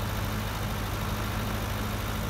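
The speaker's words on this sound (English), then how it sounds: "Just about every tractor on the farm's out today." Farm tractor engines run in a field, a constant steady low drone with an even hum and no breaks, heard alone without talk.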